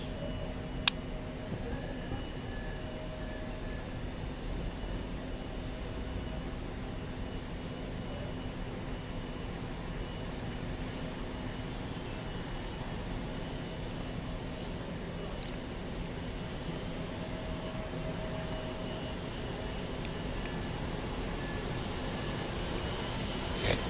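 Inside an airliner cabin in flight, a steady, faint low engine drone and airflow hiss fill the background without change, with a couple of brief soft clicks.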